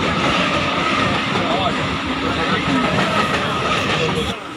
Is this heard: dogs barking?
no